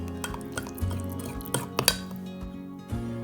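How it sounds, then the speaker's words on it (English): A spoon clinks and scrapes inside a mug as sugar is stirred into a chocolate and butter mixture, with irregular soft taps and a few sharper chinks, close and fairly quiet. "Now for 4 tablespoons of sugar, and to give it a nice little mix again"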